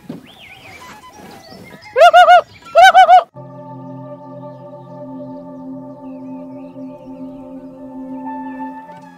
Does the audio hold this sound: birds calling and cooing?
yes